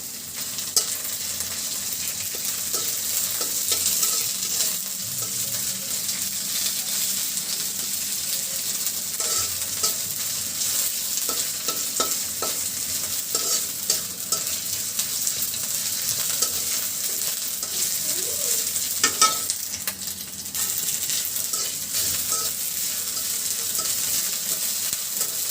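Black cumin, cumin seeds and a bay leaf tempering in hot oil, a dense, continuous sizzle and crackle held close and even for the whole stretch, with faint clicking of a utensil now and then.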